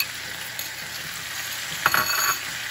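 Chicken wings sizzle softly in a pan with ginger, onion and fermented bean curd, a quiet steady frying hiss broken near the end by a brief clatter of stirring, with no talking.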